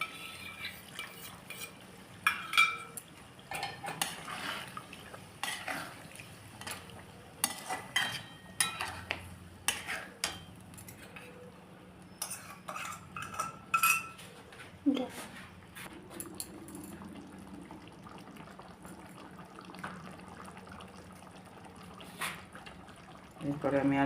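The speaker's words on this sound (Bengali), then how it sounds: "এবার ফ্রেশ ক্রিমটা দিচ্ছি।" Fresh cream goes into paneer butter masala in a pan, followed by repeated spoon scraping and stirring against the metal, with soft liquid sloshing and a voice talking at times.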